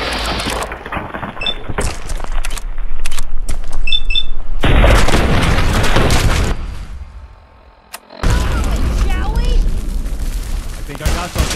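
Gunfire and heavy booms in Fallout 4 arrive as loud bursts of shots and blasts in a combat scene, with brief quieter gaps and speech mixed in.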